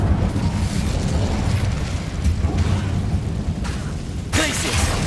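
An Incendio fire spell erupts in Hogwarts Legacy as a sustained, loud roaring burst of flame that swells again near the end, with no talk over it.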